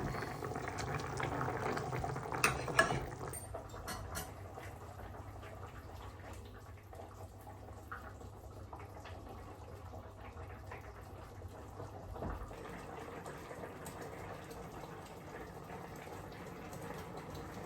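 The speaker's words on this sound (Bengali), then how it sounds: "ঝোলটা ফুটে উঠছে।" Fish curry gravy simmering in a pot, a faint, steady bubbling and burbling close by, with a brief louder clatter near the start and otherwise no talk.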